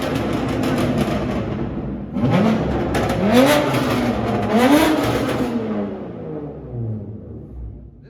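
BMW F82 M4 with a Strada Performance exhaust revs hard in repeated loud bursts, pitch sweeping up and dropping back, then settles into a fading idle-like rumble.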